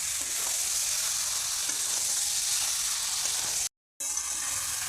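Chicken meat fries in a pan with a loud, even sizzle that goes on without a break, apart from a brief cut in the sound near the end.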